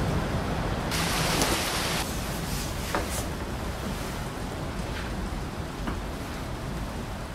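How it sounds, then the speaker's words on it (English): Heavy rain pours down steadily in Queensland, Australia, a dense continuous hiss with a few louder splashes and knocks, and no voices. "Currently in Wongaree, Queensland, it's 23 degrees with heavy rain."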